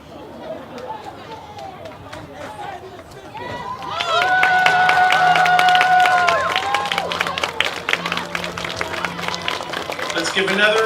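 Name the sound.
audience applause at softball tournament awards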